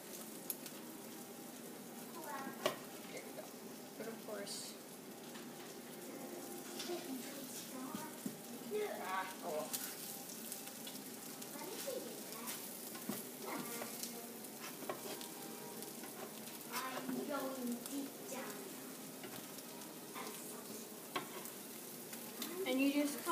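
An omelet with cheese and toppings cooks in a pan with a steady, fairly quiet sizzle and occasional faint scrapes, and no one speaks over it.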